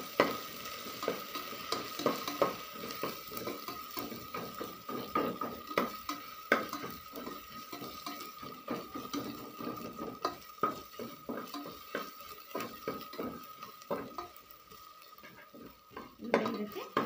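Mint leaves fry in oil for mutton biryani, crackling softly while a spoon stirs and scrapes the pan in quick, repeated strokes throughout.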